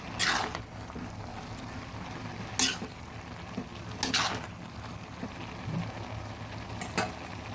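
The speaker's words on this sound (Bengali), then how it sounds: "ভালোভাবে চাল কুমড়োগুলো নেড়ে দিচ্ছি" Ash gourd pieces being stirred in a pan while cooking with salted hilsa fish head, with a low simmering sizzle and a few sharp scrapes of a spatula against the pan, spaced unevenly.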